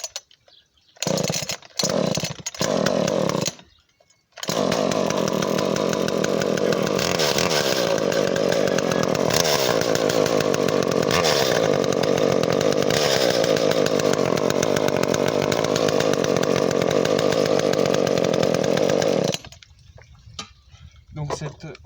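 A flooded chainsaw, set on its side, sputters through several short pull-start bursts, then catches and runs loud and steady at close range for about fifteen seconds before cutting off.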